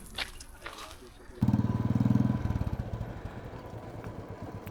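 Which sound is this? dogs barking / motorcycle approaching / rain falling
motorcycle approaching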